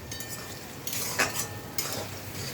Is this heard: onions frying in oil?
yes